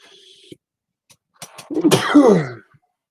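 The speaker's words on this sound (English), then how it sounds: "That was a sneeze." A single loud sneeze up close, preceded by a sharp intake of breath, ending in a quick burst.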